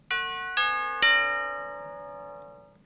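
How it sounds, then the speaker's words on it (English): Three bright bell tones struck in a rising sequence, picking out part of a song's melody, each ringing out and overlapping before a long shimmering decay; clear and close with nothing else around them. "the bells also pick out some of the melody"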